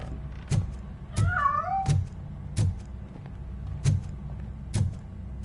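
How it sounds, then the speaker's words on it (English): A cat meows in the RoboCop: Rogue City video game, two short rising-and-falling mews in quick succession, clear and fairly close, among regular thumping footsteps with no talk. "That cat must be hiding inside."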